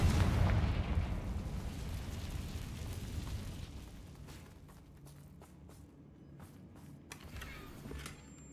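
In a Harry Potter video game, a Confringo blasting spell goes off as a loud deep boom at the start, its rumble fading over several seconds while faint footsteps and small pops follow.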